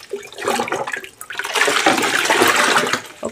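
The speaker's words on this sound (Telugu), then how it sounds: "ఈ వాటర్ని మగ్గతో మిక్స్ చేసేస్తున్నాను." A mug swirls water mixed with dye fixer in a bucket, rushing, sloshing water that swells and stays loud and close before easing off, with no talk.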